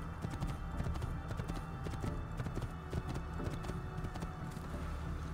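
Horse hooves clip-clop steadily as a horse is ridden in Assassin's Creed II, a continuous rhythmic trot heard close and clear over an ambient game background.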